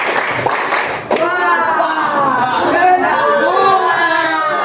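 Junior high students in an Indonesian classroom clap the patterned Tepuk Indonesia rhythm, facing partners. Crisp hand claps land in a quick burst near the start, then voices chant and talk over steady background chatter.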